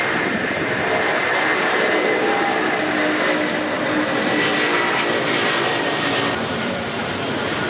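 The 42-year-old Ukrainian-built Antonov 225 cargo plane departs Shannon Airport, its jet engines giving a sustained, broad, distant roar that holds steady across the whole stretch with no one speaking.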